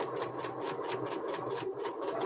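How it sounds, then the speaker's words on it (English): A sewing machine stitches a giant tulip quilt block in a fast, even run of needle strokes, close by and moderately quiet over a low motor hum. "I want to go ahead and sew this."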